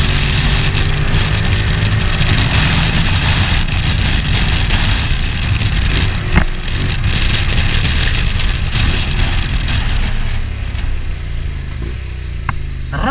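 A 2021 Honda X-ADV 750cc motorcycle engine idling, a steady loud low rumble held for over thirteen seconds with a brief sharp tap partway through and no talk.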